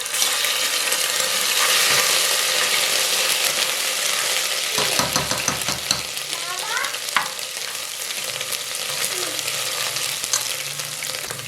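Garlic paste frying with dark browned onions in a pan gives a loud, continuous sizzle, with a burst of crackling and stirring scrapes midway before the hiss settles.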